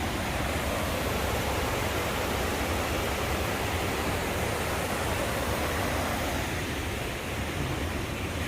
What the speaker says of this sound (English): I'm right by these falls, which are really cool.